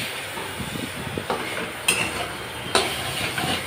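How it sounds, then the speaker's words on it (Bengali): Potatoes sautéing in a pan for a mocha (banana flower) dish, a low sizzle with occasional spatula scrapes and clinks, close and moderately quiet. "আলুটাকে একটু কষিয়ে নেব।"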